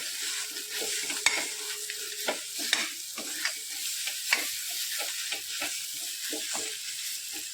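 Eggplant bharit being stirred in a pan, a steady sizzle broken by repeated scraping and stirring strokes at a loose, uneven rhythm, close and fairly quiet.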